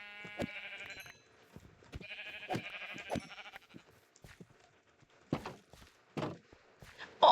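Sheep bleat in a video game, with several short wavering bleats in clusters and soft step-like clicks between them, fairly quiet and without talking.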